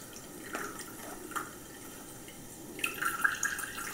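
Ground beetroot juice strained through a strainer, with soft, sparse drips and a thin trickle of liquid, quiet and close, growing a little busier toward the end.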